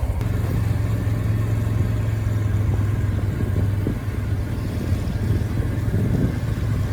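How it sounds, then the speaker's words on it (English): Motorbikes riding down a street in Bangkok, a steady low engine drone holding constant and fairly close throughout, with no voices. "For whatever reason, we thought it would be safer to go down the street with our motorbikes."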